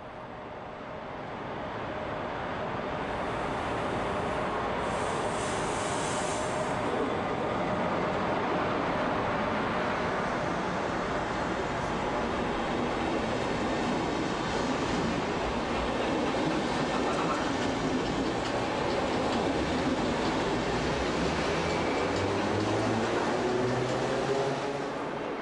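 A Deutsche Bundesbahn class 103 electric locomotive hauling an InterRegio train rolls through Berlin Alexanderplatz station, a loud, sustained rumble with clattering wheels that builds quickly and holds steady for the whole pass.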